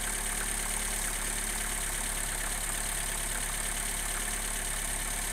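A Lada Granta engine idles steadily with a connecting-rod knock, a continuous close, loud mechanical drone throughout with no voices.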